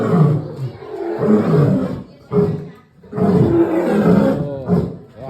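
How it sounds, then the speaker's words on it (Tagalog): A lion roars loudly and close at Zoobic Safari, deep rumbling bursts with a short pause between them, and faint voices underneath. "Oh, nag-roar na yung lion."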